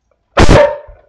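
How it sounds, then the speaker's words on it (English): A dog gives a single loud, close bark that rings briefly and fades, with silence around it. "including my barking dog"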